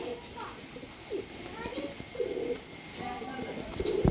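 A pair of breeder pigeons coos in soft, repeated bursts at a home loft, with a voice talking over and between the calls at moderate distance.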